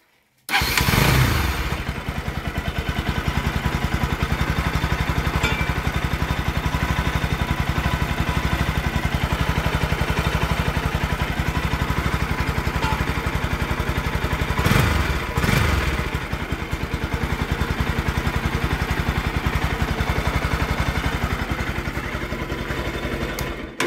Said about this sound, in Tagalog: So subukan natin pandarin ngayon yung motor guys